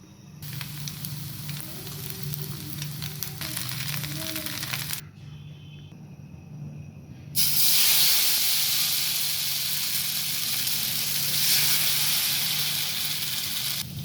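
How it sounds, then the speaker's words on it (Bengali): Egg chitai pitha batter fries in a hot pan with a steady, close sizzle. It drops away briefly midway, then returns as a louder, fuller hiss that holds to the end. "এখন পিঠাগুলো ভেজে নিব।"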